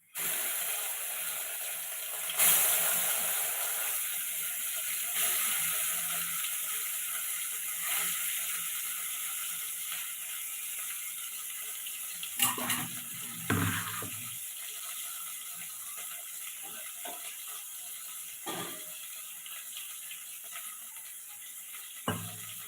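Chillies fry in hot oil as the tempering for a home-cooked tamarind curry, giving a steady bright sizzle throughout with occasional clinks and scrapes of a utensil against the pan.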